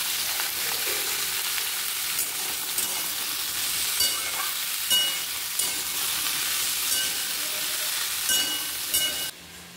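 Vegetables cook in a pan with a steady, fairly loud sizzle and frying hiss throughout, broken by a few soft stirring scrapes; no voices are heard.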